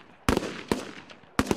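Gunfire from border guards' long-range target shooting drill, three sharp distant shots spaced irregularly, each cracking out with a brief echoing tail over a quiet background.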